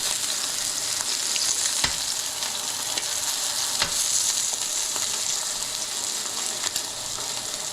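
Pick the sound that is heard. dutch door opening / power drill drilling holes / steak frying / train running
steak frying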